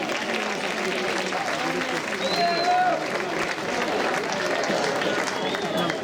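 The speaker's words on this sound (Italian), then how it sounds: "Un applauso alla Prolocco che organizza questa serata" An audience at a Pro Loco evening folk event in Posada, Sardinia, claps steadily in sustained applause, a dense wash of handclaps that carries on throughout, with some voices and a whistle mixed in.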